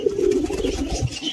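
Pigeons in a coop coo while feeding on grain, a low throaty cooing repeated in close succession, near and fairly loud, with no talking over it.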